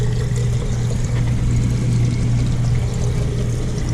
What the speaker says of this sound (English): this is how you operate the pump